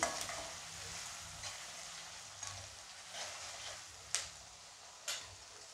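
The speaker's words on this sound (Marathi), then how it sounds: "आता आपण लाल रंग येईपर्यंत परतून घेते मी" Onions sauté in a pan for kothimbir bhaji, a soft, steady sizzle heard from close by, broken by a few light taps and clicks of a spatula against the pan.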